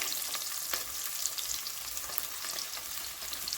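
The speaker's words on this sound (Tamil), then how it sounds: "வெங்காயம் போட்டுக்கலாம்." Chopped onion frying in hot oil in a pan for a Kongu-style cowpea rice and lentil dish, a steady close sizzle with light stirring scrapes throughout, no talking.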